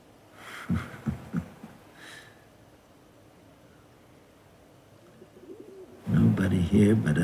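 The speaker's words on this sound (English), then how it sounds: "Nobody here but us pigeons." Pigeons coo in a few soft, low, throaty bursts early on, then a quiet stretch follows, and a louder burst of vocal sound closes the moment.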